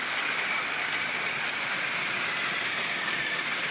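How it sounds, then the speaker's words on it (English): Trackmaster toy trains run along their track with a continuous rattling, clattering whir. The sound is close and even, steady for the whole stretch with no voices. "While the trains are running"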